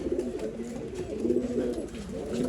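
Pigeons coo softly and repeatedly in low, throaty bursts, close by, with no talking, at a pigeon seller's loft in Bangalore.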